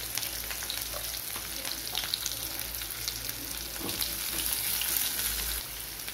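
Onions with fennel seeds frying in a pan for crab thokku, a continuous close crackling sizzle with occasional soft stirring scrapes, steady and moderately quiet, no voices.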